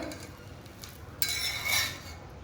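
A freshly cooked wheat-flour masala dosa is lifted off the tawa and set onto a dish, a faint scrape and soft clink of metal rising near the end, with no talking.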